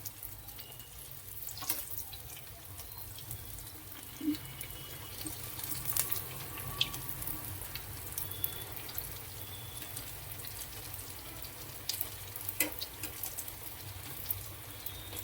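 Telangana-style corn fritters fry in a pan of hot oil with a continuous close sizzle and scattered small crackles and pops throughout.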